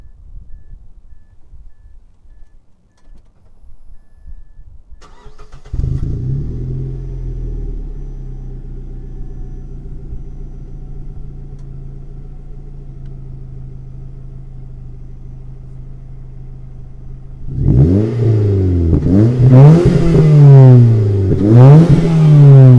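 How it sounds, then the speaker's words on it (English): Quiet at first, then a Mazda 3 with a Magnaflow aftermarket exhaust starts and idles with a deep, steady rumble before several sharp revs climb and fall close by. "rev this thing up for you"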